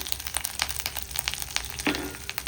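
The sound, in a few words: tempering (phodni) sizzling in pan with turmeric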